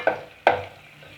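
A spoon stirs semiya kichadi with green peas in a pan, with two sharp scraping strokes about half a second apart over a soft sizzle that fades after the second stroke.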